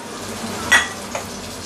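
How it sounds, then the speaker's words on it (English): Salted fish pan-frying in a little oil, a soft continuous sizzle with one brief louder spatter and a fainter crackle after it, close and short, no speech. "pan frying my salted fish"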